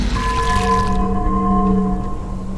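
Weapon purchase chime from the Dead of the Night map in Call of Duty Black Ops 4 zombies: a short ringing electronic tone with sustained harmonic hum, heard alone and fading after about a second.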